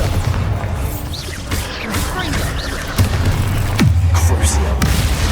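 Heavy spell blasts and booming impacts from a Hogwarts Legacy battle, a loud thud near four seconds followed by a deep rumbling tail, amid continuous clattering combat noise and a brief shouted voice.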